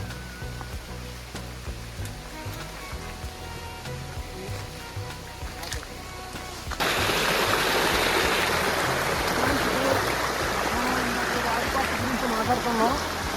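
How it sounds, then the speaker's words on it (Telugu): A waterfall roars loudly as a broad, steady rush, jumping in level halfway through as the source comes closer; before that only a softer flowing sound is present. "ఆ వాటర్ ఫాల్స్ వాటర్ ఇలా వస్తుంది"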